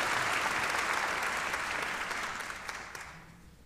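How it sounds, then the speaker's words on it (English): An inauguration audience breaks into a round of applause, full and sustained at first, then thinning and tapering off toward the end as clapping dies away. "Please give them a round of applause."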